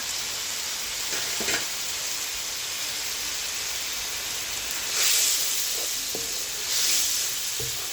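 Spice masala for black chickpeas sizzles steadily in a pan as it is sautéed, a continuous frying hiss with occasional soft scrapes and stirring clicks, swelling briefly louder twice, with no talking.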